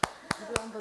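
Three or four crisp, close hand claps spaced evenly a quarter second apart, fairly quiet, at a museum education session.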